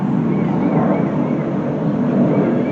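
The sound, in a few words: jet aircraft noise in the background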